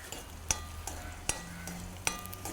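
Raisins fry in ghee with a soft, continuous sizzle, broken by three sharp clinks of a spoon against the pan, spaced about evenly.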